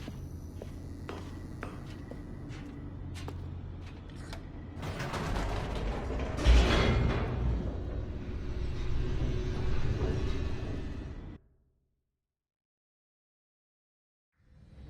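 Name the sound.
elevator descending in The Stanley Parable video game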